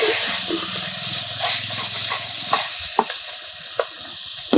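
Country chicken being stirred into a spice paste in a clay pot, with a continuous sizzle and hiss under repeated scraping and knocking of the spoon against the pot.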